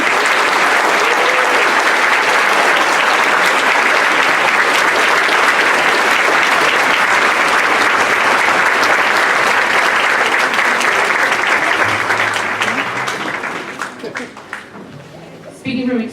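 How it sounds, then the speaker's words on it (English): A concert audience at a school band winter concert claps for students who auditioned for the Mid-State Band. The applause is loud and sustained, a dense crowd roar that tapers off near the end, with a voice briefly audible. "We'll give them a round of applause."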